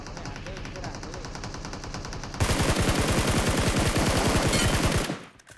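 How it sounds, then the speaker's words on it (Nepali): Automatic weapon fire in a video game: rapid, evenly spaced shots rattle steadily, then a louder, denser burst takes over before cutting off and fading. "गोली चलाऊ"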